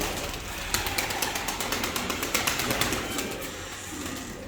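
Nuremberg pigeons in a coop, with soft repeated cooing in a steady rhythmic pulse against a hiss of background noise, close and continuous for a few seconds.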